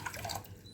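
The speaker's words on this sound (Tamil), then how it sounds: "இப்போ 300 ml தண்ணி சேர்த்துக்கலாம்." Water, 300 ml, pours into 200 grams of sugar for a syrup, a short, soft, bubbly splash close by with no voices.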